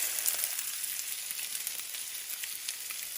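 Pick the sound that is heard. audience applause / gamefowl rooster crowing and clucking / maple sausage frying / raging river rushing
maple sausage frying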